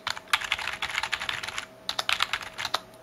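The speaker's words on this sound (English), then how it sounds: "I'm gonna type on this keyboard first" Typing on a mechanical keyboard with Roboderm switches gives rapid, close clicky keystrokes in an irregular stream, with a short pause midway before another burst, no voices.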